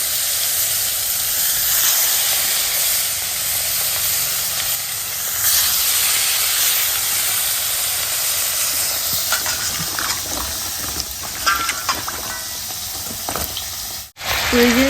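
Vegetable stalks and potatoes fry in hot oil on a lit stove for a fish curry, giving a loud, steady sizzle and hiss with occasional stirring clatter near the end.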